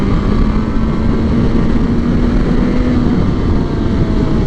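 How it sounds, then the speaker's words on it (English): A loud motorcycle engine with a baffle fitted in the exhaust runs steadily and close, a continuous dense roar with a low hum and no pauses. "because this bike is hella loud anyway"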